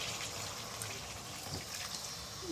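Water poured into a cooking pot of potol dolma (stuffed pointed gourd), a faint, steady trickle with soft splashes under quiet kitchen ambience.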